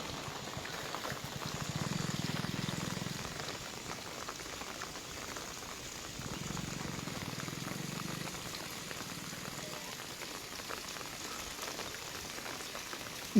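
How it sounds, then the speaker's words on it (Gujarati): Unseasonal rain falls steadily in Gujarat, a soft, continuous even hiss and patter with no voices. "વરસાદ ખૂબ વધી રહ્યો હોય તેવી પરિસ્થિતિ આપ જોઈ શકો છો"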